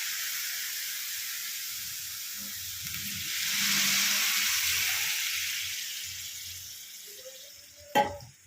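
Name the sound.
water poured onto fried rice in hot pot, sizzling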